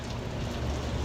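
Steady rain falls on a farm during grass silage harvest, a dense, even patter that is close and continuous for a brief moment with no voices.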